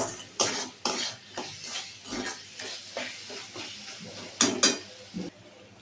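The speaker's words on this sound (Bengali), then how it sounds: "মশলাটা একটু কষানো হবে" Masala paste for loitta fish curry being fried and stirred in a pan, a rhythmic series of scraping strokes and clinks of a spatula against metal over a faint sizzle, close by.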